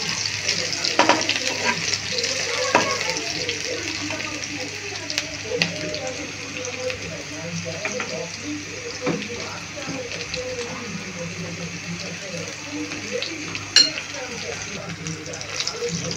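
Tular dandi fish sizzling and being stirred in a hot pan after a little salt is added, a steady close frying hiss with scattered scraping knocks of the spatula, under faint background voices.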